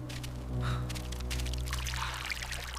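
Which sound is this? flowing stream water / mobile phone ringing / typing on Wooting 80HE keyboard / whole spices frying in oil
flowing stream water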